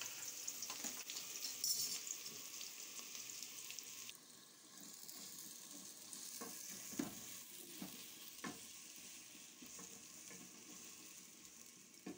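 Onions sizzle in hot oil in a cooking pan, a soft steady frying hiss with occasional stirring scrapes and clicks, fairly quiet and close, with no talking.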